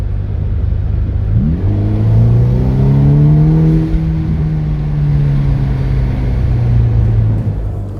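Ferrari Roma accelerating at full throttle in 6th gear, heard from inside the car: a deep, loud engine note rises smoothly over a heavy low rumble and holds strong for several seconds.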